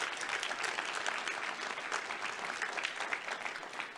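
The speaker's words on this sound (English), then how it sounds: "please give them a round of applause" Audience applause fills a policy summit hall, a steady dense wash of many hands clapping at moderate distance, sustained evenly throughout with no voices over it.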